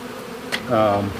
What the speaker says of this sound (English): This is just a mob of bees